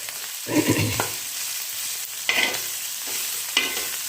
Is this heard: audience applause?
no